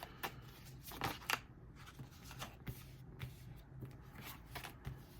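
Tarot cards are shuffled softly and continuously, with quiet papery riffles and light slaps in an irregular rhythm, close up and alone.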